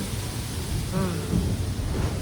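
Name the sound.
rain falling, with thunder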